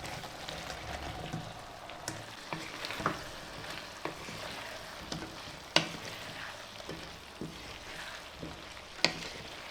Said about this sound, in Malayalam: ഇനി ഇതിലേക്ക് നമ്മുടെ ഫ്രൈ ചെയ്ത് വെച്ച ചിക്കൻ ചേർത്ത് യോജിപ്പിക്കുക.